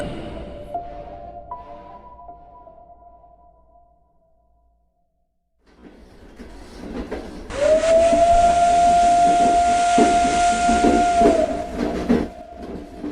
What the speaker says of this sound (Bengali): ট্রেনটা বেশ লেট করেই চলছে